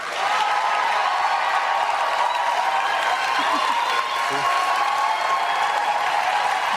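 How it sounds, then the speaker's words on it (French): Warm applause from a studio audience at a Loft Story Québec gala, a dense, steady wash of clapping held loud throughout with a few faint voices mixed in. "On applaudit chaleureusement Bob!"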